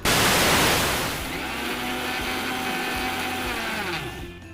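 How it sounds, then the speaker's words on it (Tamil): A kitchen mixer grinder jar whirs loudly as it grinds green gram into a fine powder, starting with a harsh roar that eases into a steady hum before winding down. "அதே மிக்சி ஜாரில் பச்சை பயிரையும் அரைச்சிக்கலாம் பச்சை பயிர் வந்து நல்லா பவுடர் ஆகணுங்க"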